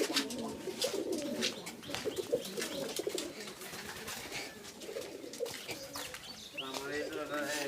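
Pet pigeons coo close by in soft, repeated throaty rolls over several seconds, with light rustling in the background.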